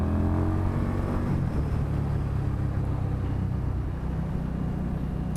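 A 2018 Indian Scout Bobber motorcycle accelerating, a deep rumbling engine note rising in pitch during the first couple of seconds, then settling into a steady close roar with no talk.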